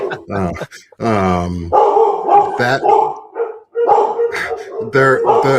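Dogs at home bark loudly and repeatedly at a passing garbage truck, with sharp barks and a drawn-out howl mixed in while people keep talking over them.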